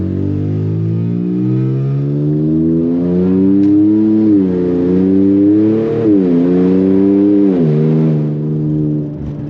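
A loud turbocharged Infiniti Q50 accelerates hard through city streets, its engine note climbing steadily through the gears with brief dips at each shift, close and continuous with no talk over it.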